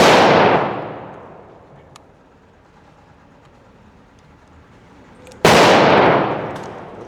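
Glock 25 Gen 3 pistol at a range, two loud sharp shots several seconds apart, each with a long decaying echo, quiet between, no voices.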